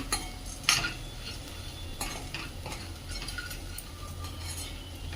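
Mixed lentil vadas made from moth, mung, urad and chana dal are tossed in hot oil in a pan, with a steady close sizzle, scraping stirs and a few sharp utensil clinks near the start.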